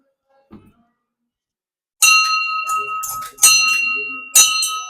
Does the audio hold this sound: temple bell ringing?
yes